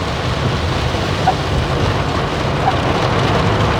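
Steady rain falls in a dense, even hiss of drops at constant loudness, with no talk over it.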